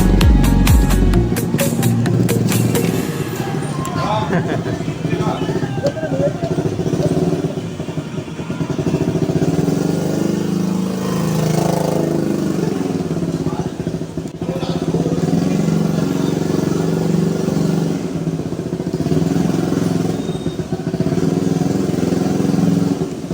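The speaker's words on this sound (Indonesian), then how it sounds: "Kita parkirkan dulu motor ini di area parkiran ex Bioskop Gloria sebelum kita lanjut perjalanan menuju ke kawasan pasar" Motorcycle ridden slowly into a parking area of a former cinema in Bukittinggi, its engine puttering steadily and loudly with some clatter throughout.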